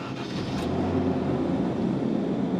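A 1997 Land Rover Defender engine turns over and settles into a continuous low mechanical growl with a gear whine running through it, loud and close, steady for a couple of seconds with no speech.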